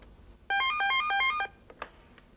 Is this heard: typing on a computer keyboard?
no